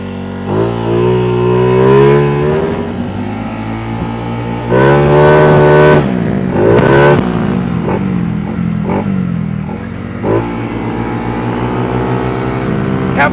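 A Honda CB300 motorcycle is ridden with loud engine revs that rise and fall through several gear changes, close and dominant, with wind noise underneath.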